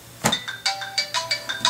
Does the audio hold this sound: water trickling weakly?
no